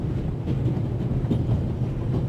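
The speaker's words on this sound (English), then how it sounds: "The noise on this train is driving me crazy." Constant low rumbling of a moving train in the video game The Raven: Legacy of a Master Thief, a steady rolling drone with faint rhythmic rattling.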